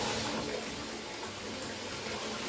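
Tap water runs steadily into a tub being filled to wash a knitted blanket, a continuous broad hiss and splash at moderate level with no talking.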